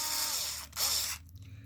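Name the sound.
drill driving 2mm socket head screw into shock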